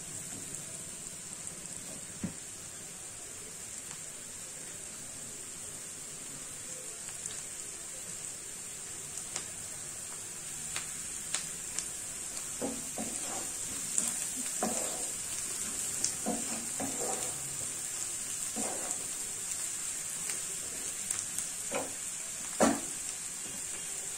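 Sliced kovakkai (ivy gourd) frying on a low flame with chili powder and turmeric makes a soft, continuous sizzle, with scattered scraping clicks as a spoon stirs the pan.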